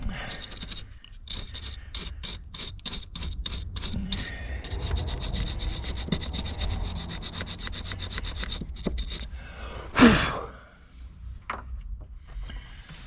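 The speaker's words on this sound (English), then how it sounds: "it's just a soft bristle brush. I'm just going to give that a little cleaning" A soft bristle brush scrubs the connections of a mass air flow sensor on a 2008–2012 Chevy Impala, giving rapid, repeated close-up rubbing strokes that run steadily for about nine seconds before a brief louder rustle.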